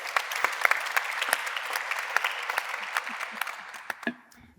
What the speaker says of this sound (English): So can I have a huge round of applause for our panellists?